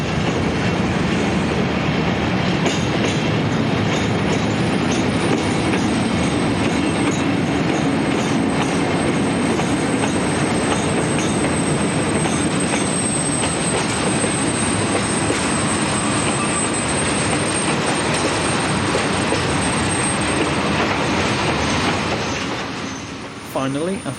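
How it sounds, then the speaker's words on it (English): A long freight train of steel pipes, hauled by two locomotives, rolls past steadily and loudly, wheels clattering and rumbling on the rails for the whole stretch. "numbers 66251 and 223 arrive with a long train of steel pipes"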